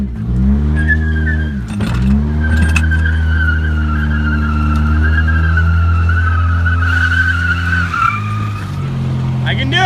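A small, battered hatchback with broken steering and only one driven tire drags forward in a game, its engine droning loud and steady while tires squeal and skid in long screeches, with a brief stall near the end.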